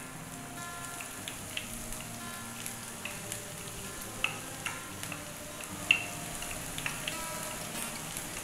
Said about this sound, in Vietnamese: Chúng ta bắt đầu khử xả để ướp với thịt ba rọi.